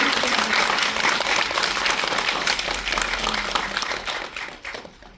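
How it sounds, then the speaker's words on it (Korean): A theatre audience claps loudly for parents during a Korean film stage greeting, a dense close wash of applause that holds steady for about five seconds before tapering off at the end. "우리 부모님들한테 부, 박수 좀 함께 쳐주세요"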